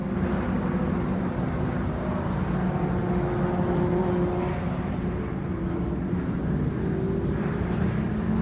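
Historic 750 Formula race cars run through Gerard's Bend onto the back straight at Mallory Park during qualifying, with a continuous blend of engines droning at a distance and no clear single pass.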